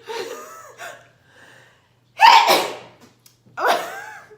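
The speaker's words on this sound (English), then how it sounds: "I'm a very loud sneezer" A loud human sneeze bursts out close by, preceded by short breathy vocal sounds and followed by another sharp exhale.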